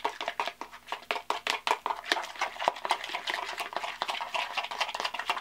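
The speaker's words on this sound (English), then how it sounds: "Stir it around." Hair conditioner being stirred with a spoon, a steady run of quick, close clicks and soft scrapes that tap against the container in a brisk rhythm, with no talking.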